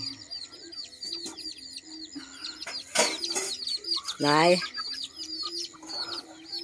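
Chickens coming down from their roost in the morning at a rural Thai home give repeated clucks and chirps, close and fairly loud, while someone talks over them.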